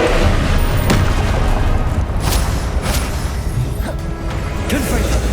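Repeated fiery spell blasts in the video game Hogwarts Legacy, loud booming bursts with crashing impacts in a dense, continuous combat mix of other spell effects.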